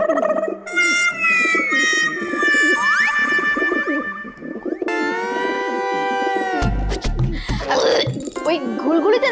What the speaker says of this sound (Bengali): ওই ঘুলঘুলিতে না একটা পায়রা থাকে